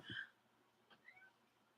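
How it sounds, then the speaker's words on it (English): A house cat gives one short, faint meow at the start, followed by a few soft chirpy trills in an otherwise quiet room. "You meowed."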